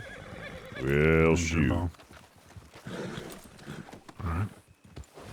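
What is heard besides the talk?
horse neighing and hooves clip-clopping, from the video game Red Dead Redemption 2 roleplay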